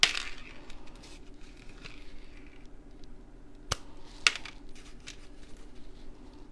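Scissors trimming small pip berries, heard as a few sharp, isolated snips against a quiet background, with two distinct louder cuts near the end.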